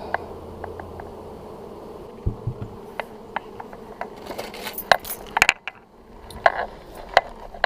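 Bees buzz and drone around a beehive while being handled, a steady hum broken by scattered clicks, taps and knocks of equipment, fairly close and with no talking.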